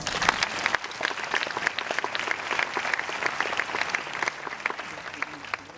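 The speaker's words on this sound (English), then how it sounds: "So please give them a big round of applause" At a high school graduation ceremony at St. Lucy's Priory, the audience breaks into sustained applause, a crackle of many individual claps ringing through the hall and holding steady from start to finish.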